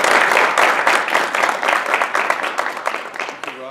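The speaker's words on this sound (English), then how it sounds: "please give Bob a round of applause." A crowd at a meeting on fentanyl analogues in Orange County gives Bob a brisk round of applause, many hands clapping densely and fairly loud throughout the short burst, with no talking over it.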